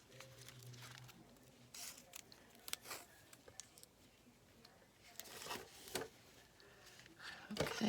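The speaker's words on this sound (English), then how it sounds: "And we'll cut this off right here." Scissors cutting washi tape in a quiet crafting setting, a few faint, brief snips and rustles spread across the moment, with a voice briefly speaking at the start.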